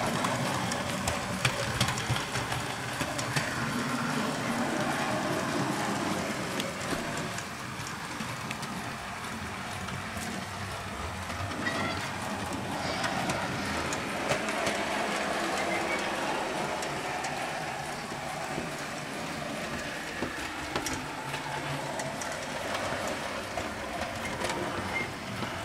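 A Bachmann 9F 92233 model steam locomotive runs steadily along a model railway track, giving a continuous, fairly quiet mechanical whir and rumble that holds at an even level throughout.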